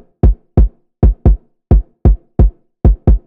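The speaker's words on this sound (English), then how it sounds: "so I just duplicated this kick, cut off the low end, added some heavy compression, and then some room noise" A layered kick drum, duplicated with its low end cut, heavily compressed and blended with room noise, thumps in a punchy loud pattern of about nine hits, some paired closely, with silence between and no voices.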